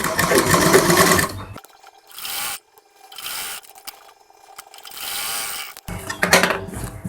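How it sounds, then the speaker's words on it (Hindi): A sewing machine stitches a suit sleeve, running in several short bursts of whirring with quiet pauses between them, loud and close, preceded by a rasping rub of fabric. "इस पे हम एक चाप की सिलाई लगाएंगे चारों तरफ"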